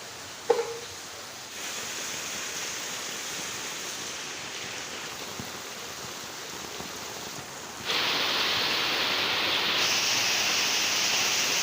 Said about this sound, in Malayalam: പുറത്തെല്ലാം അത്യാവശ്യം നല്ല മഴ പെയ്യുന്നുണ്ട് ഇപ്പം